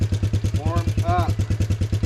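A truck engine idles and runs with a steady, rhythmic low pulsing throughout, loud and close, while a voice speaks briefly over it partway through.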